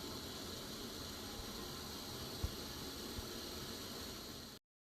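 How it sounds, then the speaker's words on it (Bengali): Sugar syrup with lemon leaves bubbling on a gas stove for ice cream. A soft, steady hiss runs throughout, faint and even, with a couple of small pops, then stops suddenly. "চিনি রসটা ফুটছে।"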